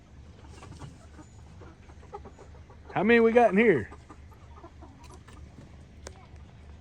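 Young chickens in a coop of thirteen birds let out a short burst of loud, rising clucking calls in the middle, with soft chatter and a person speaking around it.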